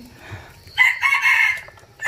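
A rooster crows once near the microphone, a loud sustained cock-a-doodle-doo rising over faint background noise, with a second call starting at the end.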